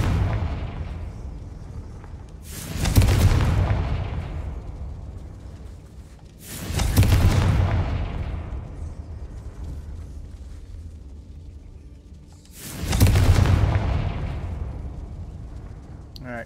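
Three heavy blasts from the Confringo fire spell in Hogwarts Legacy, each a sudden loud boom that rumbles off over a few seconds, spaced several seconds apart, with no talk.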